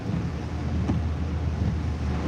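Strong wind rushes and buffets the microphone during a nor'easter near Revere Beach, with the wash of incoming waves blended into a constant, loud roar.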